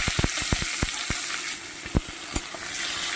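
Tomato and onion fry in a pan with a steady close sizzle, broken by sharp clicks and scrapes of a spoon stirring at irregular intervals.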